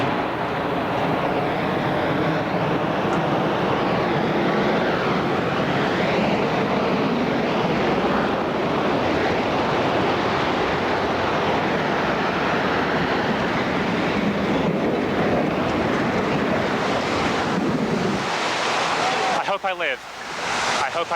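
A World Trade Center tower collapses during the September 11 attack in New York, a loud, continuous, close roaring rumble lasting about twenty seconds that thins out near the end, with faint voice-like sounds beneath.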